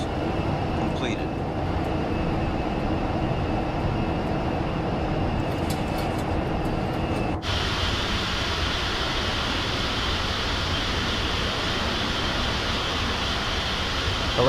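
Steady broadband roar inside a Boeing 707 in flight just after takeoff, constant engine and airflow noise with a brief tonal whine early on and an abrupt shift in character midway.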